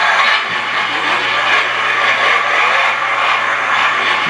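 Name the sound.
remote control Monster Jam toy truck engine starting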